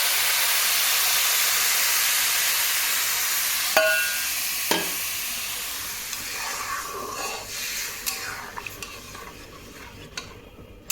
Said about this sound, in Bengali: তো এখন আমি এর মধ্যে জল দেবো